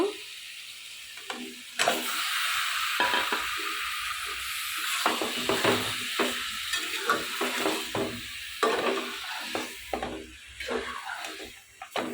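Meat tipped into a spice masala already frying in oil, a hiss and crackle that jumps up sharply and keeps bubbling in uneven bursts, with stirring noises throughout.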